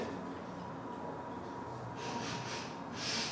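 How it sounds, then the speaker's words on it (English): A few close, breathy sniffs of tea leaves, rising toward the end against a quiet background. "Let's give it a quick sniff."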